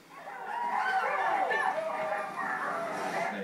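Sled dogs barking and yipping at a winter sled dog race event in Valcartier, a steady crowd of excited barks and whines from several dogs mixed together, fairly loud and continuous.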